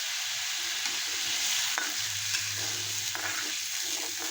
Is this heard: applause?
no